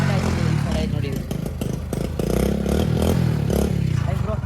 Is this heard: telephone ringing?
no